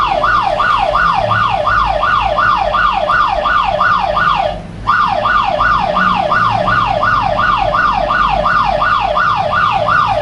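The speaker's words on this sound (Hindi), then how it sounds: "ये सायरन अपने आप ही ऑफ हो गया।" A mobile phone anti-theft alarm app blares a loud, continuous wailing siren that sweeps up and down in rapid repeating cycles, with one brief dropout midway; no one speaks.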